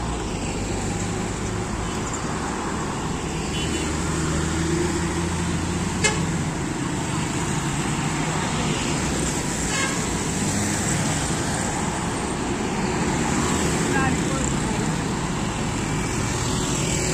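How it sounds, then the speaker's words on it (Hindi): Dense traffic roars along busy Peshawar Road in Rawalpindi near the Haji Camp and Islamabad junction, with dumpers, trailers and two-wheelers in a continuous loud wash and occasional horn toots rising above it. "हर किस्म की ट्रैफिक यहाँ पर चल रही है।"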